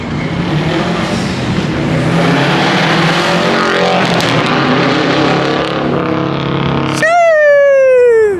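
A straight-piped Subaru STI with a boxer engine rips past close by, a loud rising and falling burbling exhaust roar sweeping through, followed by a high revving whine with a sharp pitch drop at the end.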